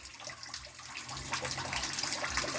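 Coolant drains from a 1976 Dodge D100 engine into a drain pan, a soft, steady splashing trickle that thickens into a fuller gush partway through, fairly quiet and without talk.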